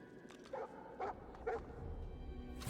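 A dog barking in the video game Divinity: Original Sin 2, with three short woofs spaced about half a second apart over faint background game ambience.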